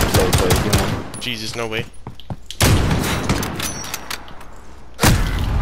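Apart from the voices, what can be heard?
pistol shots in a first-person shooter video game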